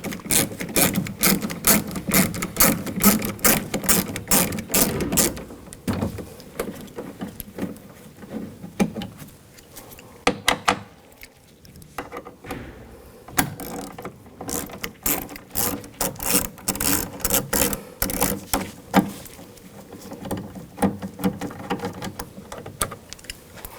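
Repeated ratcheting clicks from a 10mm socket wrench backing screws out of a 2000-2006 BMW X5 front door panel, steady bursts of close, crisp pawl ticking with a brief pause midway.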